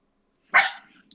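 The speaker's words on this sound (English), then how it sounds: "Sorry, that's my dog." A pet dog gives a single sharp bark close to the microphone in an otherwise quiet room, followed by a faint trailing yip.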